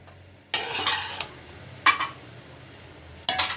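Scraping and scooping of a sautéed mixture from a pan into a mixer jar: three clattering bursts of utensil against metal, separated by quiet pauses.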